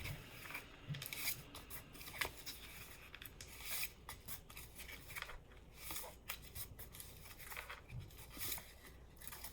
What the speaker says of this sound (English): I'm going to fold these backwards right quick.